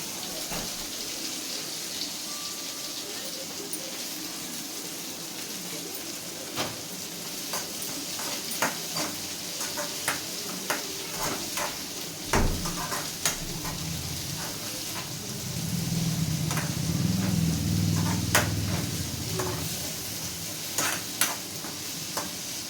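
Steady sizzle of oil in a pan as greens go straight in for frying, with a brief burst of stirring, all moderately loud and continuous with no voices.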